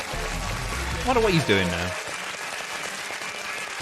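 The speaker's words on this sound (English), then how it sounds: "Give him a round of applause." A studio audience at a comedy quiz show applauds a guest, John Smith, with a steady wash of clapping running under a voice talking over it.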